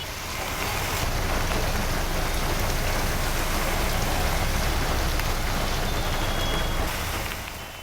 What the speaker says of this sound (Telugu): ఇప్పటికే నగరంలో వర్షం దంచుకొడుతోంది.